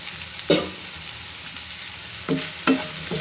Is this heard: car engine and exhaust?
no